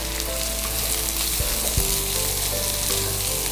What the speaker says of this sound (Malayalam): ഇനി നന്നായിട്ട് വഴറ്റിയെടുക്കാം.